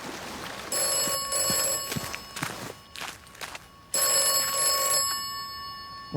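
A telephone rings from a London-style phone booth in a video game, two long bursts of trilling bell tones with a gap between, near and fairly loud over faint footsteps.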